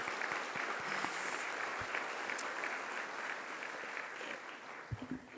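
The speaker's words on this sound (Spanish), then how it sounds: "Un aplauso para todos ustedes." Applause at a signing ceremony between Mexico's Secretaría de la Función Pública and the CLAD, a steady moderate wash of clapping from the audience with a few sharper nearby claps.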